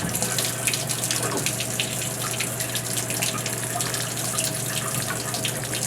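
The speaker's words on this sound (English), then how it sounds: "You got to turn the water on a little bit." Water rushes steadily from a Moen shower valve being repaired for a leak, a loud continuous flow with a constant low hum underneath and no talking.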